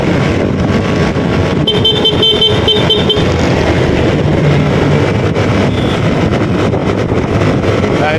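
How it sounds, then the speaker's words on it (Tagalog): Steady stream of vehicles passing on a busy road during a town fiesta, continuous engine rumble and tire noise with a brief horn toot near the start, no talking. "Madaming sasakyan."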